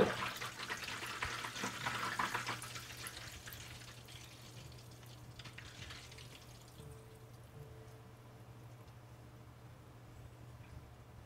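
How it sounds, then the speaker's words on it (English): An aquarium filter pump for a turtle tank starts up, circulating water with a burst of gurgling air bubbles that fades into a quiet, steady hum with faint trickling. "Sometimes it'll make a little couple more air bubble noises through the next, like, you know, a few minutes or something, but it does go away completely."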